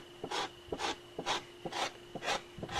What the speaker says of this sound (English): Now when I'm working a hide, I like to kind of like work in a little bit of a circle, scrape a little bit